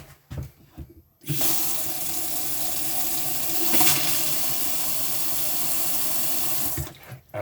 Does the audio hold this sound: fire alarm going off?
no